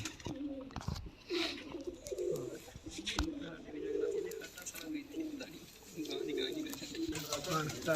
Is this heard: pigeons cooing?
yes